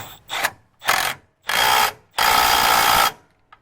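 A ratchet fitted with an 18mm socket tightens a bolt on a Ford Dana 60 axle install, four close clicking bursts that grow longer, the last one running nearly a second, then a faint tap.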